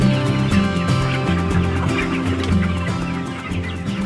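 Layer hens on a poultry farm cluck and chatter in a dense, continuous flock chorus, steady and fairly loud throughout with overlapping calls and a musical-sounding background bed.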